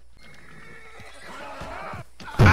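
A horse in Red Dead Redemption 2, stated to be an Arabian, whinnies in a rising, wavering call over a low in-game background, ending in a sudden loud burst as the clip cuts off.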